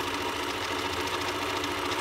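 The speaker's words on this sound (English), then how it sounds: "Sewing to the other end." A home sewing machine runs continuously as it stitches fabric, a dense, steady mechanical whir with rapid needle rhythm, close and moderately loud with no pauses.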